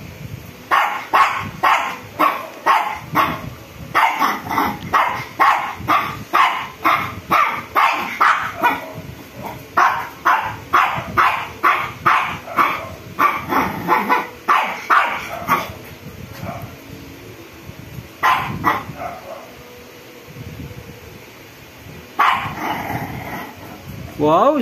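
A strong puppy barks over and over in quick bursts of sharp, close, loud yaps, with short pauses between runs. The barking thins to scattered single barks toward the end, and voices can be heard in the background.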